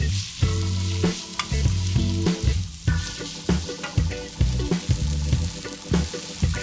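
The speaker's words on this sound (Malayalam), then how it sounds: "ഈ സമയം 1 ടീസ്പൂൺ ഉപ്പ് കൂടി ഇട്ട് കൊടുത്ത് നല്ലവണ്ണം വഴറ്റിയെടുക്കും." Sliced onions sautéing with salt in a hot pan give a steady close sizzle, broken by regular scraping and clattering strokes of a spoon stirring, fairly loud and with no speech.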